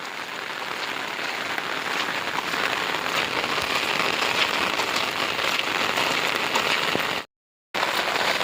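Heavy rain falls on rice paddy fields in a steady, dense patter that stays loud and even for about seven seconds, breaks off into a short silence, then resumes; no voices.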